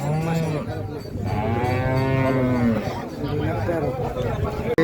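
A cow moos loudly and at length at a village cattle market in Keraniganj, nearby and prominent, with voices and market chatter around it.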